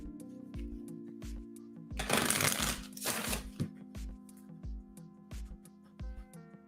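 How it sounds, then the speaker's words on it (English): Tarot cards shuffled during a livestreamed reading: two dense bursts of riffling card noise, each about a second long, rise over steady background music and a run of soft, regular taps. "I cut the deck as I was shuffling your cards back in"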